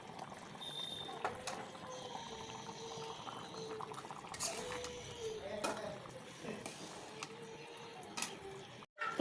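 Broth pours into a pan of braised chicken and potatoes for morog polao, a soft steady splash and trickle close by, with faint talk over it.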